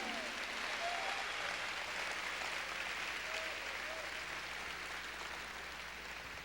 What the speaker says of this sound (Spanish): Vamos a darle un aplauso a ese Espíritu Santo.